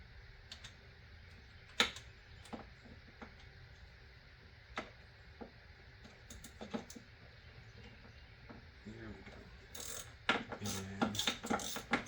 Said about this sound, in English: Then I bring in the ratchet.